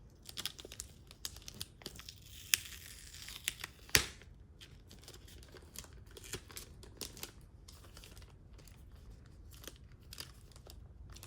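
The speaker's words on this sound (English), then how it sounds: "I'm right now struggling trying to get the tape off" Painter's tape being peeled and torn off a blind-bag comic package, close and fairly quiet, with irregular crackling rips and crinkles and a sharp snap near the middle, no talking.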